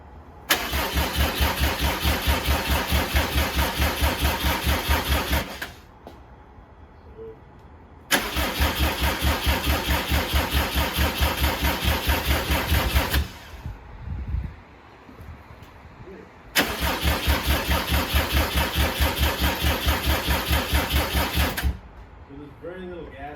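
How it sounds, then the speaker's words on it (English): A 2007 Subaru WRX swapped to STI running gear, cranking with a booster pack attached: three long bursts of rapid, rhythmic starter churning, each several seconds, separated by short pauses, with brief voices in a gap. "we're gonna throw a booster on it and see if we can get a stronger crank out of it"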